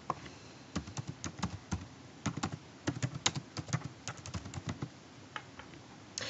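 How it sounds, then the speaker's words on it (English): Typing on a computer keyboard, a string of light, irregular key clicks at close range, fairly quiet and with no voices. "type in influenza vaccine"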